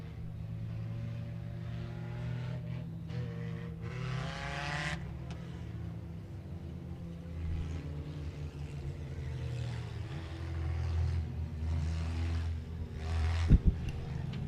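Race cars roar around the oval at Honor Speedway under green flag, a dense layered engine drone rising and falling as the pack passes, with a sharp bang near the end.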